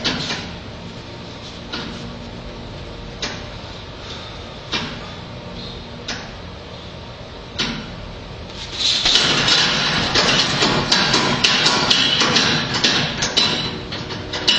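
Repeated dull thuds of shin kicks landing on a heavy bag at a steady pace, then a louder, denser stretch of noise takes over near the end.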